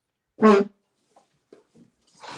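A dog gives one short loud whimpering yelp, followed by a few faint soft whines and a rising noise at the end, with no talk.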